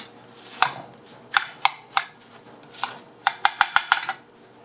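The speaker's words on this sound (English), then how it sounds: "the goal here is essentially just to cut it up and to stir it up and increase its surface area" A metal tool scrapes and clinks against a pan holding drying sodium acetate as it is stirred and broken up, with sharp irregular knocks and a rapid cluster of taps near the end.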